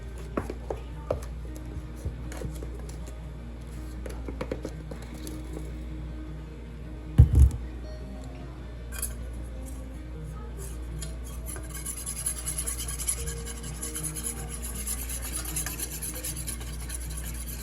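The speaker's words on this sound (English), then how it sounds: "you're gonna slowly add it and whisk it into the butter" Powdered sugar is whisked into butter for frosting, a close, continuous soft rubbing and scraping with occasional clinks and one sharp knock near the middle, under a low steady background.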